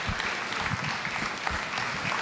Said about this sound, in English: Can I just get a round of applause for the team at Daily Bread?